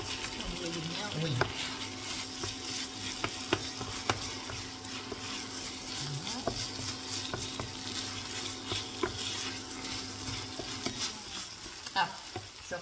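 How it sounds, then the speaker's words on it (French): Onions and apples sizzling steadily in a frying pan while a utensil stirs and scrapes through them, with occasional clinks against the pan, close and continuous. "on fait bien revenir le tout, on mélange bien"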